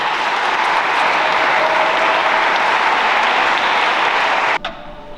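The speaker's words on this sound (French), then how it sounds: "Vous pouvez les applaudir, hein?" A wedding congregation applauds the newly married couple at a church ceremony, a loud sustained wash of clapping that holds steady for several seconds before cutting off abruptly.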